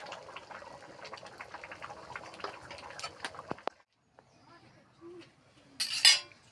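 A spoon scrapes and clinks against a cooking pot as cumin paste goes into a simmering chickpea curry: scattered close metallic taps and stirring, a short lull, then one sharp burst of scraping near the end.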